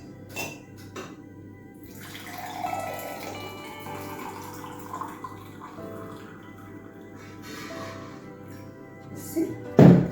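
Green tea with passion fruit is poured into a container in a kitchen, a faint, steady liquid trickle running for several seconds. A sharp thunk of a container being set down comes at the end. No talking.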